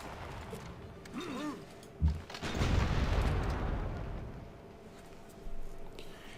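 A ranged unit or city fires in Civilization V with a creaking mechanical release and then a sharp crack into a booming, rumbling impact that fades over a couple of seconds, followed by a softer second thud.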